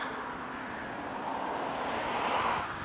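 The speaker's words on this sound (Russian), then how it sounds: "поднялся холодный ветер" Steady cold spring headwind rushes past the microphone while cycling, a broad, even noise that swells slightly toward the end, with no voices.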